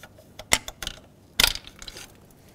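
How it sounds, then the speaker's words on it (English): A pick pries the plastic cap off the alternator's red power wire on a 2001-2007 Volvo V70, giving two sharp close snaps about a second apart with faint clicky rattles between them. "let's pop off the plastic cap. I'm gonna use a pick to help me out with this"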